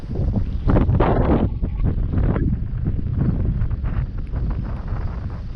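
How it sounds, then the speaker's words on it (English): Strong wind buffets the microphone in loud, rough gusts during a DJI Phantom 3 Standard drone flight, with the roar rising and falling throughout and no clear voices. "Flying all manual. It's windy, y'all."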